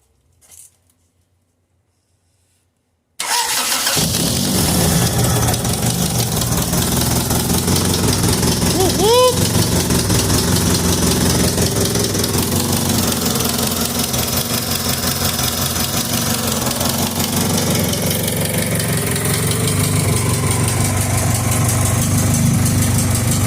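A Honda Civic EG sedan with an H-series engine, header and intake catches after a brief starter crank and settles into a loud, steady idle that holds close and constant.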